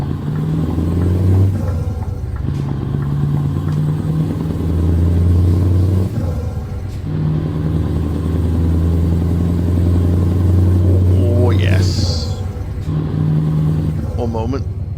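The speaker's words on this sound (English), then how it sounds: "I don't think anyone can match the sound of a Scania V8." Scania V8 truck engine in the game Euro Truck Simulator 2, rumbling and revving through gear changes with a deep low drone, while a voice talks over it.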